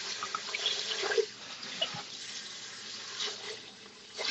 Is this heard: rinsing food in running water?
yes